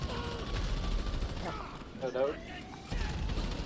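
Bursts of gunfire crack out during a GTA Online prison break heist shootout, several sharp shots scattered under chatter and game noise.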